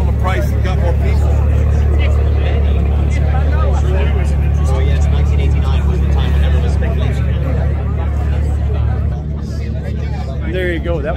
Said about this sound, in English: That was the Ferrari parade over there.